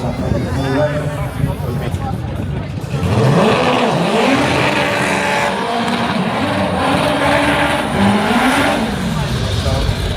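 A 1400 BHP Toyota A90 Supra launches down a quarter-mile drag strip, its engine loudly climbing and dropping through repeated gear shifts while a commentator talks over it.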